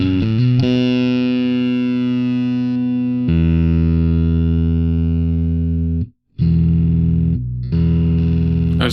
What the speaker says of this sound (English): I'm just going to crack on the distortion